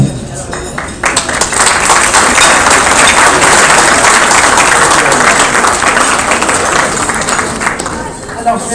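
Loud applause from the audience at an iftar dialogue gathering, a thick continuous roar of clapping that swells after a brief softer opening and stays strong to the end, with crowd murmur and voices mixed underneath.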